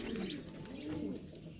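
A Sheikh Mahmadi breed pigeon cooing up close in a pigeon setup, two soft, low, rolling coos in succession over a steady background hum.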